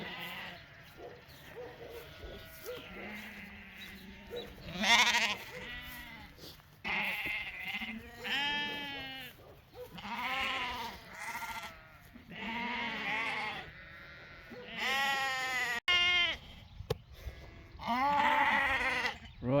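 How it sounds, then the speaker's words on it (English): Weaned lambs in a mob bleat almost continuously, many overlapping voices near and loud with layered calls rising and falling, no talk over them. "So this is the lamb mob."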